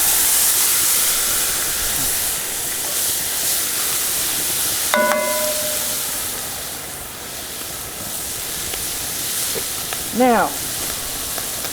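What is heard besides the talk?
meat and cabbage sizzling, stirred in cast iron pan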